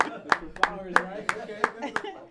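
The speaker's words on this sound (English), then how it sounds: "Gotta clap." Audience clapping at a live hip-hop panel, a sparse run of about seven sharp, evenly spaced hand claps, close and fairly loud, with a voice talking beneath.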